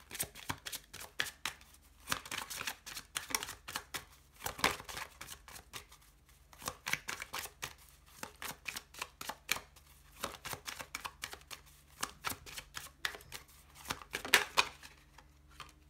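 Oracle cards being shuffled by hand, a quiet, close, irregular patter of soft card slaps and riffles coming in short bursts with brief pauses between them.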